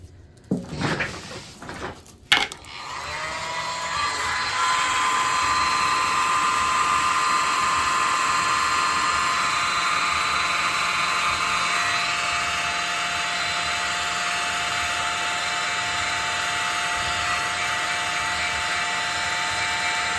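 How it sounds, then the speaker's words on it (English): Small handheld mini blower whining steadily at a high pitch over resin art on a round coaster, starting after a few clicks and bumps and running loud and continuous to the end. "Use my mini blower."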